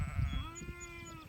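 Sheep and goats bleat in a grazing flock on sorghum Sudan grass pasture, one drawn-out wavering bleat close by over a low rustling, wind-like background.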